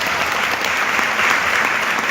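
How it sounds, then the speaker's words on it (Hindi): An audience bursts into loud, sustained applause, a dense and even wall of clapping from many hands, with no one talking over it. "बार जोरदार ताली होनी चाहिए, जबरदस्त, क्योंकि वही मेरा भगवान है।"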